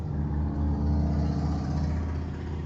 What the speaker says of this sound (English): That was a loud vehicle.